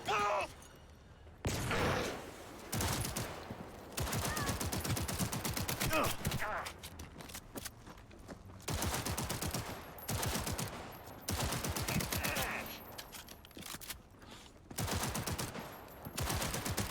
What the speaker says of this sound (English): Definitely more bullets than I needed to fire.